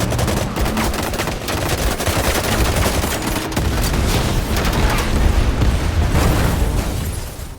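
Loud, dense bursts of rapid gunfire with booming blasts, a sustained barrage of shots continuing throughout.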